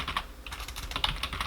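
Rapid, fairly close keystrokes sound on a computer keyboard in a steady run of light clicks.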